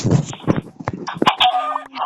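A few short chicken clucks and squawks sound in quick bursts, with electronic tones mixed in.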